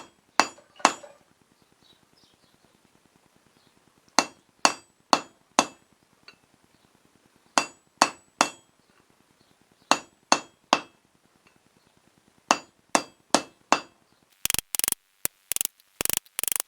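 Hammer strikes a steel bar on an anvil while forging a crossbow bolt, ringing blows falling in quick bursts of three or four separated by pauses, ending in a rapid run of sharper hits.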